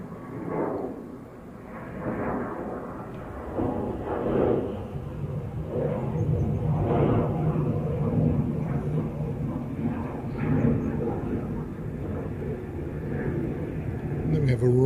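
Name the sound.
ATR turboprop aircraft at Dublin Airport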